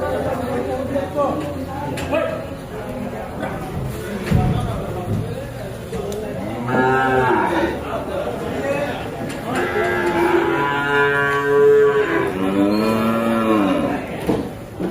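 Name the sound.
buffalo calves mooing at a calf market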